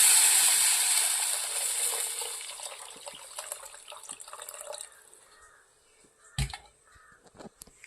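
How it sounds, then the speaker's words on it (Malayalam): Tamarind water pours into a pan for banana flower rasam with a bright rushing hiss that tapers off over several seconds, followed by a few light clatters. "പുളിവെള്ളം ഒഴിച്ചു കൊടുക്കാം"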